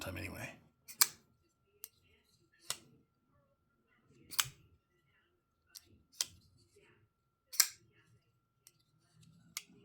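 A folding knife blade flicked open on its thumb studs and snapping shut, giving sharp isolated clicks spaced a second or two apart, close and fairly loud, with faint rustling between them and no talk.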